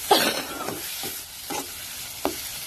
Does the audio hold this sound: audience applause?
no